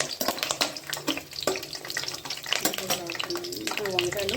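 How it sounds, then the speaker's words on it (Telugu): Green chilies and garlic frying in oil in a pan, giving a steady sizzle with crackling spits and occasional clinks of a utensil against the metal, close and moderately loud throughout. "ఇప్పుడు పెనంలో ఆయిల్ వేసుకోవాలి, ఒక్కొక్కటి ఫ్రై చేసుకోవాలి."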